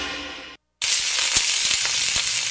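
Sizzling like skin cooking in the hot August heat in Florida: a steady, loud hiss with crackling pops, cut by a brief silence before the sizzle resumes.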